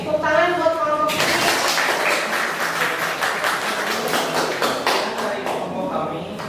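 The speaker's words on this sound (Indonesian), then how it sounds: "tepuk tangan buat kelompok ini" Applause breaks out for a student group after their classroom presentation, a dense sustained clapping from the class that swells suddenly and carries steadily to the end, with a voice speaking just before it starts.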